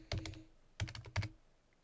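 Keystrokes on a computer keyboard as a password is typed, in three short clustered bursts of quick clicks separated by pauses, close and fairly quiet with no talking.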